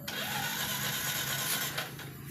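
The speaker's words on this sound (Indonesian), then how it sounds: "Ketika motor kita starter" A Yamaha Jupiter Z1 motorcycle's electric starter cranks the engine with a steady whirring drone that cuts off after about two seconds, heard close up with no talking.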